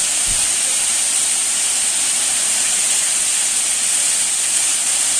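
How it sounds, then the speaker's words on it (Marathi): A small waterfall in Tamhini Ghat pours as a constant, loud hissing rush of falling water, steady throughout with no other sounds standing out. "तुम्ही पाहत असाल एक छोटासा धबधबा ताम्हिणी घाटात."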